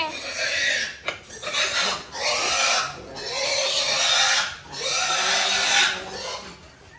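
Piglets on a farm, with close, continuous grunting and oinking mixed with rustling and scraping, and a person speaking softly at times.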